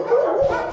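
A dog gives a short bark and whining yelp outdoors while guests arrive and a quadcopter is launched, close and loud, a quick pair of yips with no talking.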